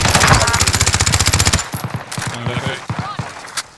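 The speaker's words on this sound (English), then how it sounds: "Getting shot at, yeah, cool" Rapid automatic gunfire in Call of Duty Warzone, a loud fast burst of evenly spaced shots followed by scattered, more distant single shots and short volleys.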